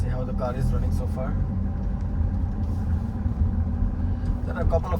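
A 2020 BMW X1, recently repaired with a new MAP sensor after a P112F fault code, drives along a road on a test run, its steady rumble of engine and tyre noise running continuously under a voice.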